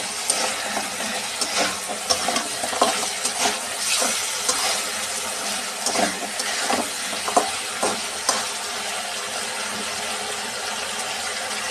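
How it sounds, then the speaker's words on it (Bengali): A spatula stirs fried potatoes and pumpkin bori through fish curry masala in a pan, producing a steady sizzle with intermittent scraping and clinking strokes and no talking. "মশলাটা কষানো হয়ে গেলে এর মাঝে দিয়ে দেব ভেজে রাখা আলু, আর দেব কুমড়োর বড়ি, দিয়ে ভালো করে নেড়ে চেড়ে নেব।"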